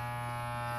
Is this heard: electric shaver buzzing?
yes